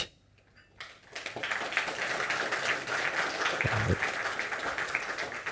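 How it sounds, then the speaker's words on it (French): After a brief quiet moment, an audience at a GitOps tech conference talk breaks into applause that swells quickly and holds as a steady, moderately loud wash of clapping to the end. "vous applaudissez s'il vous plaît"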